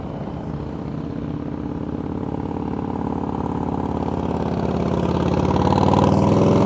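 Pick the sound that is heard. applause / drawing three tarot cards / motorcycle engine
motorcycle engine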